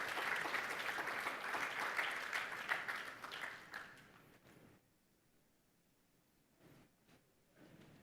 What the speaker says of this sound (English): join me to applaud Max